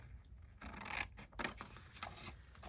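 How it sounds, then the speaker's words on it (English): Scissors snip through paper while a junk journal is made, several close, quiet crisp cuts with soft rustling between them. "I am going to cut here, and this flap at the top,"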